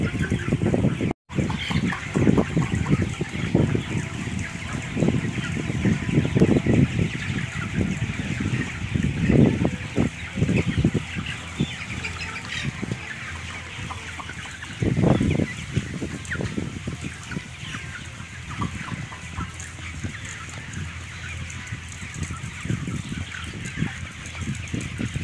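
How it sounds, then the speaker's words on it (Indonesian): Broiler chickens crowded in a converted warehouse poultry shed, a dense, continuous murmur of soft clucks and chirps with occasional louder squawks, fairly close, steady throughout. "Kalau kita lihat, ini semua ayam tidur"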